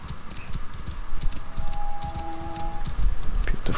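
Hooves of a steed clip-clop steadily in a video game, a continuous trotting rhythm mixed with wind and ambient game sounds, with no talking.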